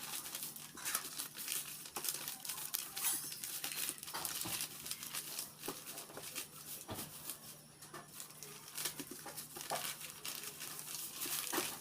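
Thin paper packet filled with coffee being slowly folded by hand, giving a steady run of soft crinkling and crackling rustles close up, with no talking.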